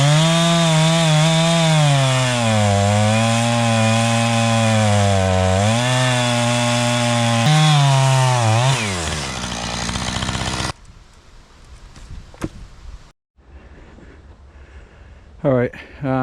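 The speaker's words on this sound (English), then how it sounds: "I always cut the stump down as far as I can with a chainsaw" Chainsaw cutting down a tree stump, a loud close engine whine holding steady with slight pitch dips as it bites, then cutting off into quieter scraping and clattering noises.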